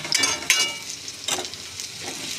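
Potatoes and chopped onion fry in ghee in a pan, a steady close sizzle punctuated by a few sharper stirring scrapes.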